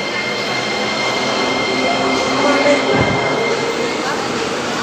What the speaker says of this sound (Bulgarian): За първи път гледам метро да минава.